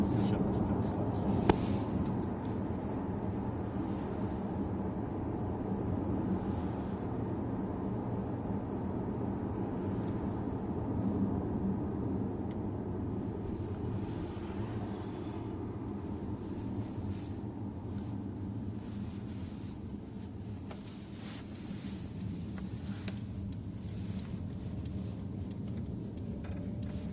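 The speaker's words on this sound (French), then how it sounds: "Je fais juste une légère petite accélération." Cabin sound of a Mercedes A-Class 250e hybrid, AMG Line trim, gently accelerating around a roundabout: a low, steady road and engine rumble with little change in level, heard from inside the car.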